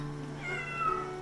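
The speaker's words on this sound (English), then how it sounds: "Uh-oh, I hear a cat, too." A cat meows once, a drawn-out nearby call rising in pitch, heard alone without talk.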